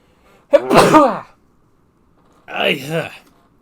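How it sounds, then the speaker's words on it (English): Two sneezes a couple of seconds apart, close and loud, each with a sharp burst and a breathy trailing release, with silence between them. "I gotta sneeze again."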